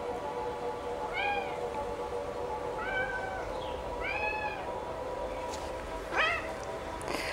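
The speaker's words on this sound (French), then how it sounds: "Le chat est d'accord." A cat meows several times in short, rising calls spaced a second or so apart, fairly close and clear over a soft background hiss.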